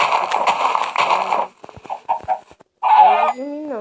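Chickens cluck and squawk loudly nearby in several short, irregular bursts, with brief pauses between calls and a few softer clucks in the gaps.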